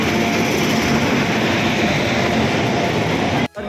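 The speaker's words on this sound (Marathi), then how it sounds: "एक ट्रेन आली कोल्हापूरवाली" A Kolhapur train rolls into a railway platform in a loud, close, continuous rumble of wheels and carriages that cuts off abruptly just before the end.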